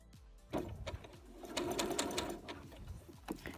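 Sewing machine stitching around an inner garment pocket 1 cm from the edge, running in several bursts with short pauses between, close and steady.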